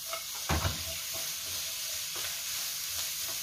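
Spicy Korean pork (jeyuk) being stir-fried in a pan, with a steady sizzle running throughout and a few sharp scrapes and stirring knocks near the start.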